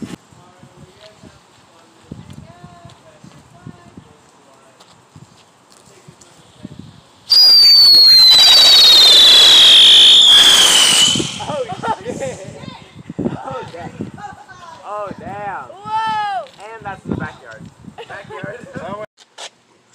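Backyard 4th of July fireworks whistle loudly as one shrieks skyward for several seconds, followed by crackling pops and bursts, with people chatting and reacting nearby before and after.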